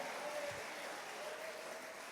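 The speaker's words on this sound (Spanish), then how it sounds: "Alguien de un aplauso fuerte a Cristo Jesús en esta ocasión" A church congregation applauding, a dense continuous wash of clapping that fills the room at a steady moderate level, with no distinct voices.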